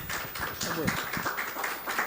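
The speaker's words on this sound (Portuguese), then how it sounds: "Uma salva de palmas." A conference audience at an entrepreneurship and tourism summit in Portugal claps as a guest is welcomed, a steady patter of applause running throughout with a voice speaking over it.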